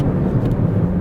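A Subaru BRZ with a CVT transmission accelerates, giving a steady, loud, broadband engine and road roar with no talking.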